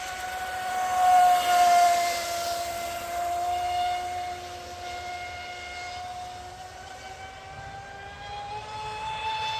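An electric motor spins a 44x16 propeller at about half throttle, a steady, loud droning whine with a sustained tone that drifts slowly in pitch.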